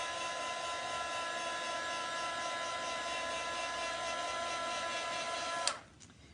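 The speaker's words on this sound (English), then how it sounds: "Now, if you have a hair dryer or a heat gun, you can go ahead and speed up the drying process." Hair dryer blowing on a freshly applied chalk transfer design, a steady close whine that runs evenly and then cuts off abruptly near the end.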